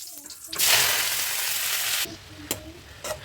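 Spinach tipped into hot coconut oil with crackled mustard seeds and dried red chilli for cheera thoran bursts into a loud, hissing sizzle that holds for about a second and a half, then drops to faint pops and stirring.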